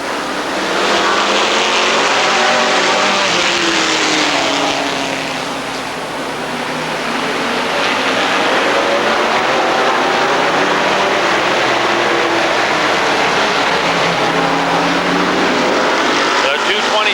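Race cars roaring around Rockford Speedway in 1999, a dense loud pack of engines swelling and fading as the field passes, with a commentator talking over it.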